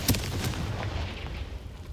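Confringo blasting spell going off in Hogwarts Legacy, a sharp burst at the start followed by a rumbling blast that rolls on and fades out over about two seconds.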